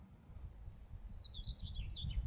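Bird calls ring out over an estuary with mudflats and reed beds on the Suffolk coast, a few thin chirps rising late and fairly faint above a steady low rumble of wind or distant background noise.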